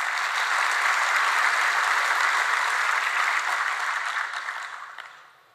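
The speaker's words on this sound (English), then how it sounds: "Give them a round of applause." Audience applause at a cybersecurity talk, a broad, steady wash of many hands clapping that holds for several seconds and then tapers off at the end, with no voices over it.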